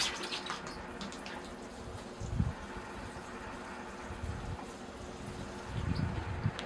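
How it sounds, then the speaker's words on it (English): Water poured over a potted shagbark hickory bonsai, a soft steady splashing and trickling into soil with a few louder gushes near the end, close and moderately quiet, with no talking. "And I'll give it a water."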